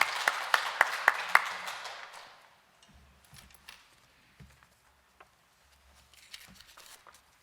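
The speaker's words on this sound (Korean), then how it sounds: "나오실 때 우리 박수로서 환영하겠습니다" A church congregation applauding to welcome a pastor at a Sunday worship service, a short burst of clapping that fades within a few seconds, followed by quiet footsteps and small knocks.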